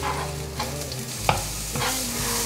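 Carrots stir-fried in a pan with oiled fresh shiitake mushrooms for a potato patty filling, with steady sizzling, a few scraping strokes and a soft tonal hum of background music beneath.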